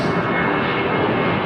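A Virgin jet airliner departing Heathrow runway 09R, its engines giving a steady, loud, broadband roar throughout with no voices.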